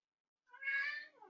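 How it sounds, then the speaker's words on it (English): A single short cat meow, clear and fairly quiet, rising and falling over about a second after a moment of silence. "you can hear my cat in the background."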